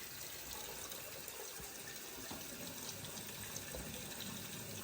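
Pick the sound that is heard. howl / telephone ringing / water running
water running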